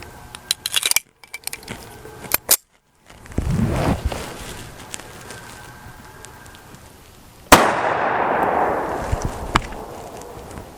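A Remington Golden Saber +P hollow point fired into a block of ballistics gel: several sharp, loud cracks and pops, a brief silent gap, then a sudden close blast trailing into a long noisy decay.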